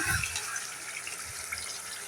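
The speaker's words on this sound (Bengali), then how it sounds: "এখন পানি দিয়ে দেবো" Water splashes and streams steadily into a pot of beef and mung dal curry over fried spices, a close hissing pour with no voices.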